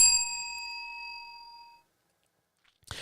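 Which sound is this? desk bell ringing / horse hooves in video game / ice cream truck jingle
desk bell ringing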